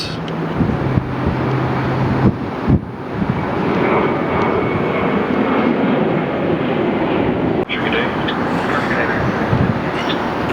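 Jet airliner at Phoenix Sky Harbor airport, a steady broad engine roar filling the whole stretch at close range, with a brief thump near the start and a sharp click later.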